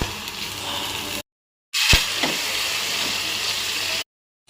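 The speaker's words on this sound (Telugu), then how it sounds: "ఇదిగోండి ఇప్పుడు నేను తాలింపులు వేసేస్తున్నా చూడండి." Tempering spices fry in hot oil in a pan for a curry, a loud close continuous sizzle with a few sharp spits and crackles, broken by two short gaps of silence.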